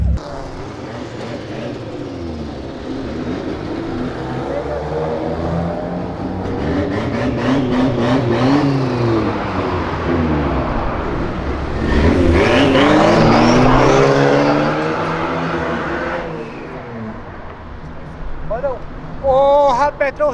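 A Honda Civic Type R leaving a car meet revs and accelerates hard, its engine rising in repeated surging pulls with a loud burst mid-way, while onlookers talk and shout nearby.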